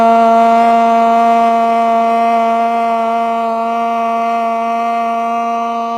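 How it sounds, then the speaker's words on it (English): A yoga class chants a single sustained Om together at the close of a vinyasa power yoga session, one steady rich harmonic tone held loud and even for about six seconds with no talking. "Let's close our class off today with just one Om."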